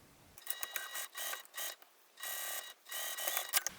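A sewing machine stitches a bag seam in short start-stop bursts, each run of rapid needle clatter lasting under a second with brief pauses between, fairly quiet and close with no talking.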